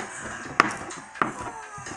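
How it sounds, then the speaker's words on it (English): Two sharp knife chops through cooked jerk chicken on a cutting board land about half a second apart, close and distinct over quiet kitchen background. "I'm chopping up this jerk chicken."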